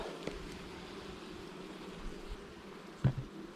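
Honey bees at a hive on a heather field give off a faint, soft, continuous buzz, up close but quiet, with a couple of brief knocks and rustles.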